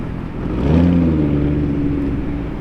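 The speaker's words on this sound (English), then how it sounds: "Ooh, Urus Performante! Yeah, those downshifts!" A Lamborghini Urus Performante engine drops through its gears in a single rising and falling rev. The deep, droning tone swells and then holds loud against outdoor background noise, with no talk.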